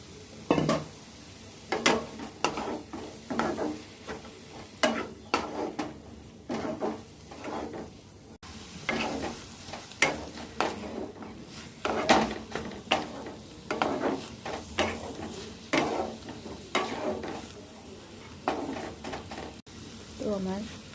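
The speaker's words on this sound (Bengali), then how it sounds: "এবার ভেজে রাখা বেগুনগুলো দিয়ে দেবো।" Spinach stir-frying with fried eggplant and bori in a pan, repeated scraping and clattering strokes of a spatula against metal over a faint sizzle, with intermittent talk alongside.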